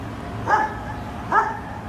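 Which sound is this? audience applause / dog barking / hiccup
dog barking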